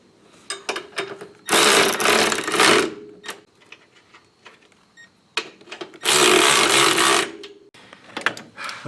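Two long, loud bursts of a power tool driving down front strut bolts on a 1993-2002 Firebird Trans Am, separated by quieter clanks and handling noises.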